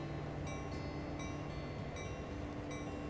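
A train in a railway video game rolls along with a steady rumble and continuous mechanical hum, joined by periodic clicks and tonal whines from the wheels on the track, heard up close with no voices.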